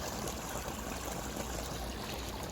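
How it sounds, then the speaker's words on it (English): Spring water flowing out from its source in a forest garden, a steady broadband trickling rush that stays even and continuous throughout, close by and moderately loud with no voices. "here is the water comes out from the source"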